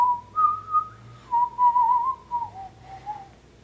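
A person whistles a slow, wavering melody in clear sustained notes with short breaks between phrases, close and fairly loud, with no other sounds.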